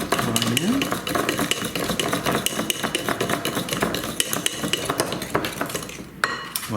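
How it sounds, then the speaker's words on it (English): Hand mixing an egg into creamed cake batter, without any electric mixer, gives rapid, steady scraping and clinking as a utensil strikes the bowl over and over. "now I'm going to add 2 eggs, one at a time. There's one. And let's mix that right in."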